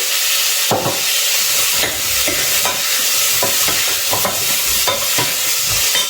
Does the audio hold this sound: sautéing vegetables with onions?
yes